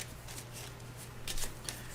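A deck of game cards for the Earthborne Rangers board game being shuffled by hand, soft riffling bursts at close range, quiet and alone with no talking.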